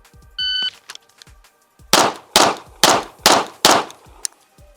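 Five sharp pistol shots from a 320 fired at 15 yards crack out loud and close at an even, brisk pace, after a brief electronic beep and a few small clicks.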